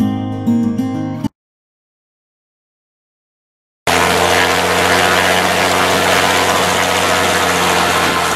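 A crop duster plane's engine and propeller running before takeoff, with a loud, steady droning roar close by, broken by a few seconds of silence before the engine noise returns.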